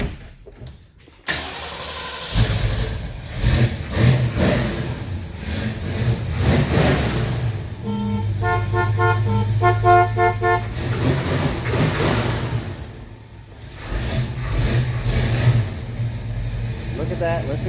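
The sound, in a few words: 1969 Ford Mustang Mach 1 engine starting and revving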